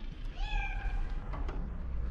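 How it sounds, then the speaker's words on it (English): A cat locked behind a door on a street in Morocco lets out one drawn-out meow, muffled and moderately near, over low traffic-like rumble outdoors. "Somebody locked up a cat?"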